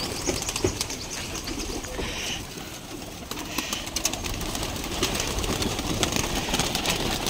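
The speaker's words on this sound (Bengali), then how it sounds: "এদের সব কবুতরগুলো খাইতে দিচ্ছে ভাই" Pigeons being fed, with soft cooing and occasional wing flaps over dense, busy background noise, close and continuous throughout.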